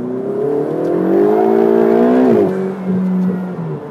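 2015 Ferrari 488 GTB turbocharged engine accelerating, a loud, close rising growl that climbs in pitch, drops sharply at a gear change, then pulls again steadily.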